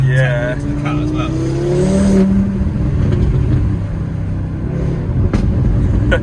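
Deep rumble from a tuned 400 BHP Audi RS3 8P engine, steady and loud throughout from inside the cabin, with rising revs partway and a person talking over it.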